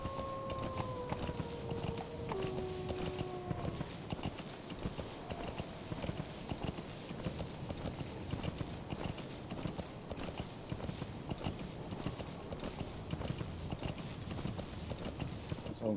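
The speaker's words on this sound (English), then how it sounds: "This horse need to learn how to giddy up." Steady rhythmic clip-clop of a trotting horse's hooves in Metal Gear Solid V, continuous and close, with faint whistling tones early on and no talking.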